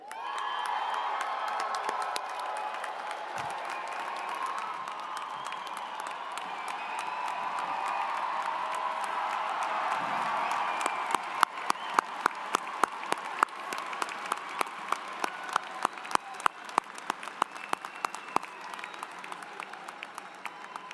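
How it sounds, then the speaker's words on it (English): A crowd at a University of Wyoming spring undergraduate graduation ceremony bursts into sustained applause with cheers and whoops, a dense roar of clapping that thins later into sharper, more scattered, rhythmic claps. "And I didn't even ask you to clap."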